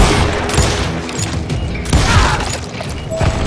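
Dense rapid gunfire from enemies in the Western shooter Call of Juarez Gunslinger, loud continuous bursts of shots with booming impacts and clattering mechanisms throughout, no talking.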